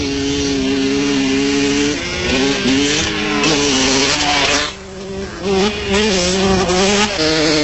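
Off-road racing motorcycles, Kawasaki and Honda, scream flat-out through an off-road race in South Africa, their high-revving engines layered and loud throughout, pitches rising and falling as several bikes pass close together.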